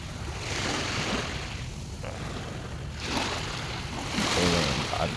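Sea waves washing in Manila Bay at night, a continuous surf roar with surges building and breaking every couple of seconds, close by and loud, with wind buffeting the microphone.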